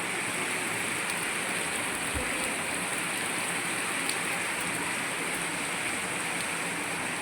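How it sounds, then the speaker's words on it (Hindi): Steady, heavy rain pours down in a dense, continuous hiss, loud and close, with no voices. "देखना बारिश कितनी तेज़ हो रही है"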